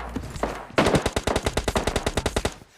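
Gunfire in the mobile shooter game PUBG Mobile Lite: a brief burst followed by a steady rapid string of about fifteen automatic shots, loud and close.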